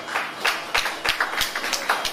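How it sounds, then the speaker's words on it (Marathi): An audience at an international poetry festival in Pimpri claps in a burst of applause, a moderate patter of hands with a few sharper claps standing out, steady over a couple of seconds. "एकदा टाळ्या वाजवा."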